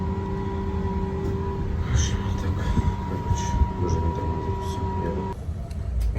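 Heard from inside a passenger train travelling toward a station, a continuous rumble of rolling wheels with a steady high electrical whine and faint clatter, while people talk quietly over it.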